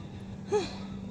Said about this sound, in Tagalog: Ay, hinihingal ako.